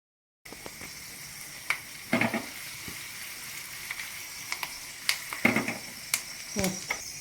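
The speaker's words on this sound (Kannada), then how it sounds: "ಈಗ ಒಗ್ಗರಣೆ ಹಾಕ್ತಾಯಿದ್ದೀನಿ ನೋಡಿ" Spices tempering in hot oil for a vegetable sambar, a steady close sizzle and hiss with a few sharper crackling bursts and pops through the middle and end.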